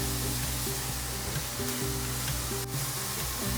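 Curry leaves, chili powder and aromatics stir-frying in a hot pan before clams go in, a loud, steady sizzle running throughout with a steady hum underneath and no voices.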